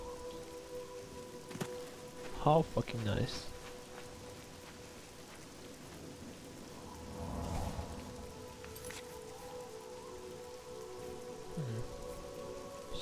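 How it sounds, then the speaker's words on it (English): Steady rain falls in the video game The Elder Scrolls IV: Oblivion, a soft continuous patter with faint in-game clinks and thuds, and someone speaks briefly over it. "It's raining outside."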